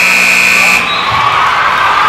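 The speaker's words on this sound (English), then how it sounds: "And that is just the buzzer beater." The end-of-period buzzer sounds loud and steady for under a second at an overtime girls' high school basketball game, then a gym crowd carries on underneath.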